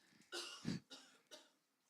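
Several coughs in quick succession during a church sermon, a sharp hacking burst followed by two lighter coughs, fairly close and with no talking.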